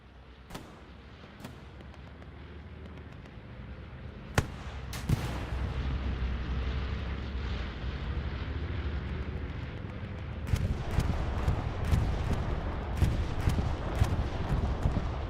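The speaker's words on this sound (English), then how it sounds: "Bombing run goes out on the point." A bombing run in the World War II shooter Hell Let Loose sets off heavy explosions: a couple of booming blasts early, then a cluster of repeated impacts over a constant rumbling battlefield din.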